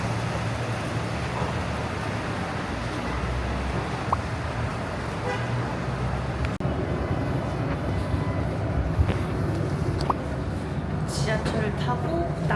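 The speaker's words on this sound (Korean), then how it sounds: "지하철을 타고 다운타운으로 갑니다." A New York subway train carries riders downtown toward the 42nd Street station, a steady loud roar with rattling and occasional brief horn-like tones throughout, with faint voices in the background.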